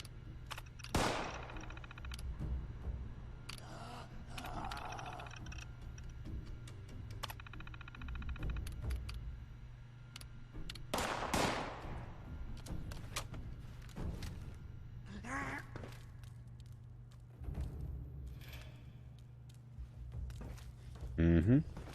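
Gunfire in a video game from shooters on the floor above firing straight down through it, scattered bursts and single shots at moderate volume amid footsteps and game sounds, with people talking over it.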